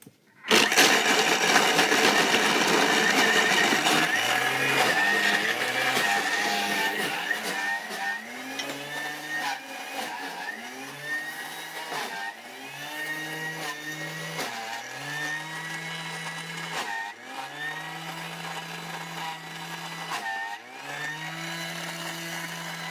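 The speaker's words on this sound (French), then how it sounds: "on va venir mélanger très fort pour mixer le chocolat complètement avec notre pâte" A Thermomix kitchen machine blends chocolate into cake batter at speed 10, its motor whirring loudly and steadily with repeated rising pitch sweeps as the blades spin up and settle, running alone without talk.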